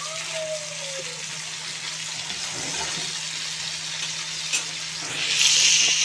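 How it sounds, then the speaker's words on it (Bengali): Chicken and potato pieces frying in a pan, a steady hissing sizzle with faint stirring and a brief clatter, swelling into a louder rush of sizzle near the end. "এখানে হচ্ছে চিকেন আর আলু ভেজে নিচ্ছি"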